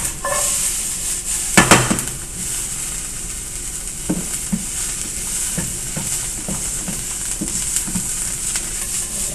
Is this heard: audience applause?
no